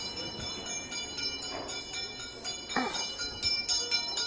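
A bright ringing garbage truck bell repeats at intervals amid steady outdoor street noise, moderately distant.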